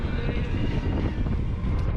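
Strong wind buffets the microphone on a road trip, a dense low roaring rumble that stays constant and loud for the whole moment with no other clear sounds.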